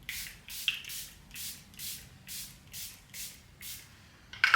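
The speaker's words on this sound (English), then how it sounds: "Today I'm using the Charlotte Tilbury setting spray." Charlotte Tilbury setting spray is misted onto a face in a quiet room, a row of about eight short, soft hissing pumps in an even rhythm, close and gentle.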